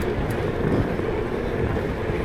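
Wind blasts against the microphone while riding, a continuous loud low rumble and roar with no break for the whole moment.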